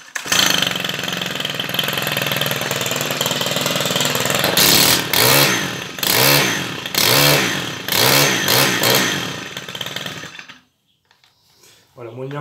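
Stihl FS90 brushcutter, left unused for a few months, starts and runs with a loud, close two-stroke buzz, then revs in a series of rising and falling pulls before abruptly cutting out; a voice talks during the running.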